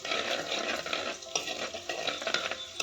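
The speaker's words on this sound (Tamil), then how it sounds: "நல்ல வெங்காயம் வதங்கணும்" Small onions sautéing with garlic in a pan, a busy close crackling sizzle with repeated scraping stirs and light clinks of a utensil against the pan.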